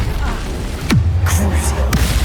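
Spell blasts of Incendio and Confringo in the Hogwarts Legacy video game, with loud booming whooshes and sweeping tonal effects in quick succession over a heavy low rumble.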